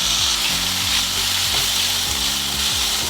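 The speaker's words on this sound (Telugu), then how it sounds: "ఈ టమాటాలు బాగా సాఫ్ట్గా అయ్యే వరకు వేగనివ్వాలి." Finely chopped tomatoes frying with onions and turmeric in a pan for an eggplant masala curry, a dense steady sizzle with stirring and scraping strokes repeating every half second or so, close.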